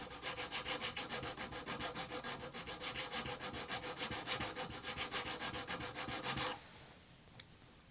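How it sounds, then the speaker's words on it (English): A sheet of 320 grit sandpaper wrapped around a rubber eraser sands a classical guitar's metal frets behind a small fret guard. The close, rhythmic scratchy strokes run steadily, then stop, leaving near-silence and a single faint tap. "I sand each fret with 320 grit sandpaper, which is wrapped around a rubber eraser."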